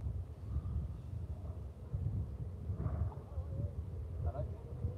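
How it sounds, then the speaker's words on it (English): Wind buffets the microphone with continuous low rumbling gusts on a cold, exposed football ground before a local league match between Bridport and Blandford. "And it is windy as fuck."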